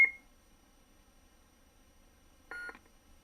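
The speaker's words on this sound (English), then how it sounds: "To change fonts, you press and hold this through 2 beeps." A lightsaber hilt's sound board gives a short electronic beep at the start, then after a quiet pause a second, louder buzzy beep follows, both crisp and close.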